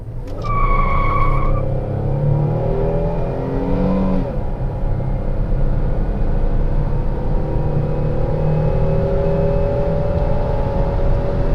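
A front-wheel drive car accelerates hard toward 85 mph on the road, its engine note rising through the gears with brief shift breaks, then droning steadily at speed, heard from inside the car.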